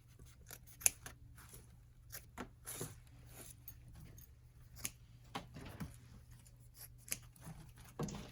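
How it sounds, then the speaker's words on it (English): Scissors trim ribbon tails on a bow for a blue hydrangea and eucalyptus grapevine wreath. Several quiet, crisp snips come at irregular intervals over a low background hum. "now I'm ready to cut these tails down here"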